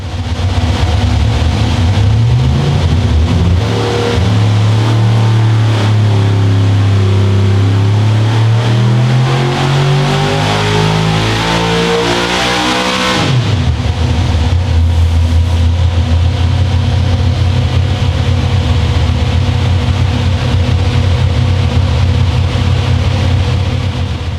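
An engine roars at full throttle, its pitch climbing and sweeping upward before dropping abruptly, then settling into a steady, loud drone.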